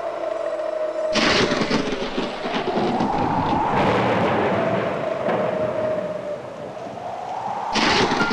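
Sudden storm thunder, heavy rumbling bursts that start abruptly, roll on loudly for several seconds with a steady tone underneath, ease off, then crash back in at the end.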